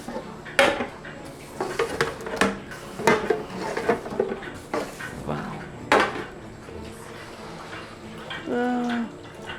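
Metal pizza pans being handled and oiled in a pizza shop kitchen: a series of sharp clanks, scrapes and rattles at irregular intervals, close and fairly loud, with no speech over them.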